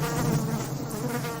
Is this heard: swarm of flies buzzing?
yes